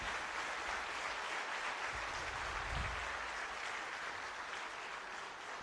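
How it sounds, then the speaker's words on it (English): Steady, subdued clapping from a seated audience at the Union Bank of India Officers' Association Golden Jubilee celebration in Karnataka, a soft, even patter of many hands that carries on without pause and without speech. "You should applaud more."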